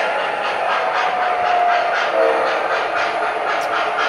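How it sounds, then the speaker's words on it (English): Model train rolling along a home layout with RFID tag-reader detection, producing a steady, close mechanical whir and rattle of small wheels on track with a faint brief squeal midway. "The next train coming up to its next tag reader."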